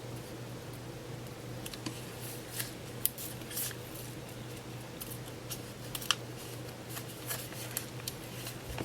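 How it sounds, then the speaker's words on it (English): Excess Cricut vinyl is peeled off its thin, flimsy backing, giving soft scattered crackles and small ticks over a quiet steady hum. "So I'm going to pull away the vinyl that I don't want."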